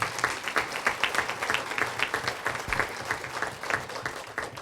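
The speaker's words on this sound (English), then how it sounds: "Another round of applause for the advisory board." Applause at a business advisory board scholarship luncheon, steady clapping from a moderate crowd with rapid overlapping claps, fairly close and sustained throughout without talk.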